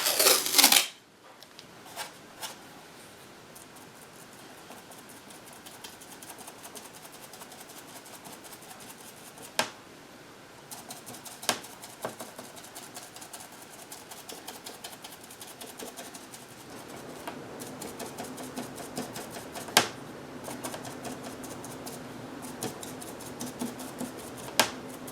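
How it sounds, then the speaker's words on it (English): Tape is being laid down to mask off a small wooden barn quilt pattern. Quiet handling noises and rustling run throughout, with sharp tearing snaps at intervals and a brief louder burst at the start. "So we're going to tape those off."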